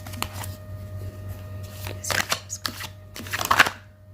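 Tarot cards are shuffled by hand in quick riffling bursts of papery flutter and slaps, growing busier toward the end, close and alone over a low steady hum.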